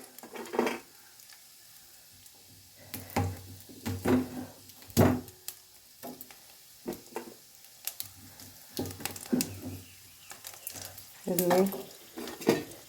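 Seeds and spices tempering in hot oil in a pan for a cabbage and chana dal curry, with a soft sizzle under repeated clinks and scrapes of a spoon stirring, irregular and close.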